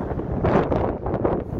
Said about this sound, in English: It's so windy out today.